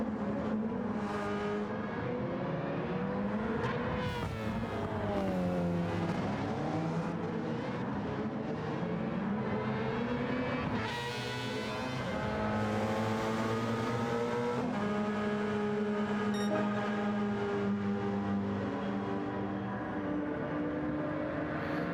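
An LM55 race car in Gran Turismo 7 roars down the straight in an endurance race, a loud sustained engine note rising and falling through gear changes, with other cars mixed in and no talking.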